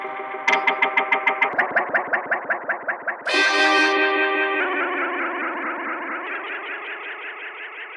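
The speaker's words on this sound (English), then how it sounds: "Kramer Master Tape is ideal for dub effects and generating all sorts of trippy tape delay and echo effects." Kramer Master Tape plugin tape delay produces dub echo effects: a pulsing repeated tone that speeds up and repeats rhythmically, then a sudden warped, brighter burst settling into a dense, modulated echo wash, loud and without voices.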